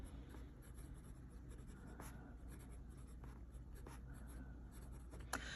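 A fountain pen loaded with a custom-mixed teal ink writes across fountain-pen-friendly paper, giving a steady, close scratching of nib strokes with brief lifts between words and no voices.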